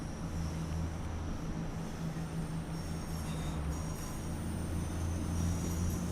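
A miniature railway train at Dresden Park Miniature Railway rolls in with a steady, fairly faint rumble and a thin high whine or wheel squeal layered on top, no voices.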